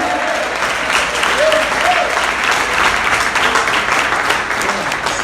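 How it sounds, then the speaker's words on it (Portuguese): A congregation applauds loudly at a Sunday evening church service. Dense clapping fills the room throughout, mixed with cheers and a few voices calling out over it. "Diga glória a Deus e aplauda Ele mais forte"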